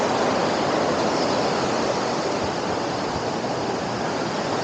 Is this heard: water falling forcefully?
yes